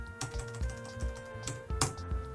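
Computer keys being pressed, including the F2 key, while a shortcut is renamed in a Windows file explorer: a handful of crisp, close keyboard taps at uneven intervals over a steady low hum, with no talking.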